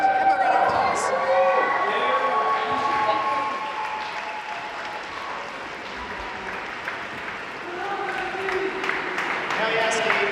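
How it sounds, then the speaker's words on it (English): A town hall crowd in San Francisco breaks into sustained applause and some cheering for a volunteer organizer. The clapping is loud and close, dips to a lower swell in the middle, then rises again, with voices mixed in. "So give him a round of applause."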